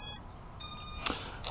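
Moka Gryff prototype paintball gun frame giving off short, bright electronic beeps, two clear tones with small clicks between, close and crisp in a quiet space.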